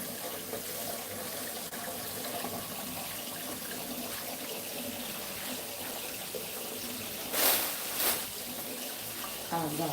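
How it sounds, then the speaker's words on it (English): Greens washed under freezing-cold running tap water, a steady close splashing stream with brief louder bursts of spray near the end, no talking. "Wash it until the water looks clean."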